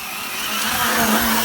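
A brushless-converted Losi 5T RC car accelerates at full throttle in snow, its motor whine climbing steadily in pitch and loudness over a brief burst.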